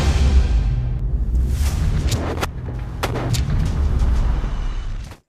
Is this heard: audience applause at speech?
no